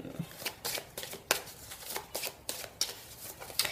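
A deck of tarot cards is riffled and reshuffled by hand in a series of quick papery bursts, about eight crisp flutters in under four seconds, close and fairly quiet with no talking.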